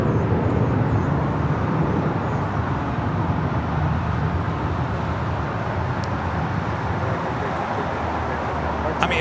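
An American Airlines Airbus A321 departing LAX roars on takeoff, a loud, dense, sustained engine rumble that holds steady and fills the whole stretch.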